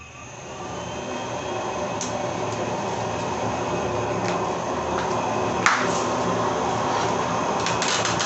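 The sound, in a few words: blower switched on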